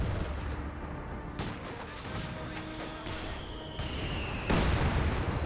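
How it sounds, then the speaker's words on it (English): Mortar impacts and small-arms fire in the Company of Heroes battle game, scattered cracks and a sharp crash near the end over continuous battlefield noise, moderately quiet and without clear speech. "Good mortar hit there."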